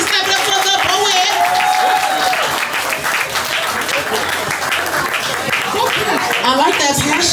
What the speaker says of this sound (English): Please clap it up for the poet.